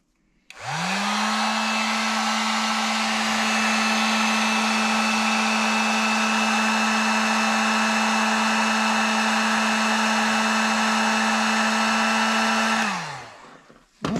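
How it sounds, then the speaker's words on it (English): A small heat gun blows hot air at a 12V LiFePO4 battery, a loud steady fan whine and rush that starts abruptly, holds evenly, then spins down at the end. "Got my little heat gun here."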